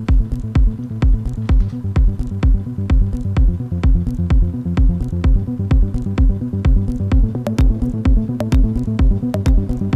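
A Thor synth patch in Reason layered over a drum track, with automation gradually opening the filter. It plays as a steady, loud, pulsing loop of evenly spaced hits under a sustained tonal bed, brightening slightly toward the end.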